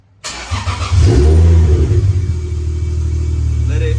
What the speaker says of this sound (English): So let's turn the car on.